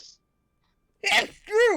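A sneeze bursts out loud and close after a moment of silence, followed immediately by a short spoken exclamation.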